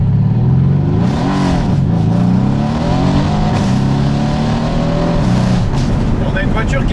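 A Mercedes C63s AMG accelerates hard inside a tunnel, its engine note rising and falling in a loud, continuous roar that echoes off the walls, with a pitch sweep as it revs.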